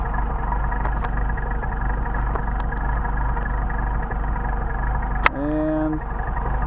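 A car engine idles steadily at a constant, even drone, loud and close, with a brief higher tonal whine near the end.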